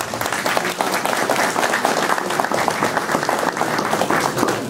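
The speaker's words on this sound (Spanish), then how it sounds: "Un aplauso bien fuerte, por favor." A large crowd at a Peruvian provincial government public event in Canchis, Cusco, applauds strongly and steadily, a dense, continuous wash of clapping throughout.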